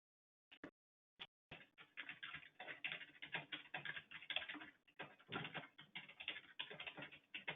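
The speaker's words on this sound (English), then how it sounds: "I did hear somebody typing" Someone types on a computer keyboard during a virtual meeting, a few isolated taps and then a continuous rapid patter of keystrokes, close and clear with no speech.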